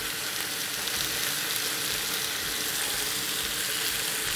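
Beef burger patties for a double beef burger fry in a pan with a steady, close, hissing sizzle that holds even throughout, with no one talking.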